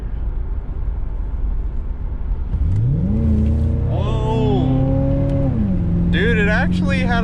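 A 1993 Chevrolet Caprice wagon engine revs up while accelerating, its pitch climbing in steps through the gears, loud and close under a constant road rumble, with voices talking over it.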